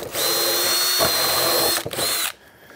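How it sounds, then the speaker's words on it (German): A power drill whirs loudly, boring holes into a wooden board for an outdoor shower, running steadily for about two seconds before briefly catching, then cutting off. "Jetzt kommen hier ein paar Löcher rein."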